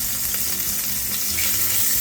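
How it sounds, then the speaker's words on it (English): Pork fries in a little oil in a pot, giving a constant, close sizzling hiss with faint crackles and no break. "Place your pork in the pot for frying."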